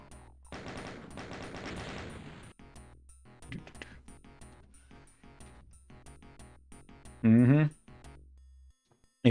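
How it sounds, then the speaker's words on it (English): A machine gun fires in Doom with ray tracing, with a dense rapid burst near the start and scattered shots after it amid game effects, ending in a loud short electronic blare. "Oh, there's a rat-ta-ta-ta-ta machine gun."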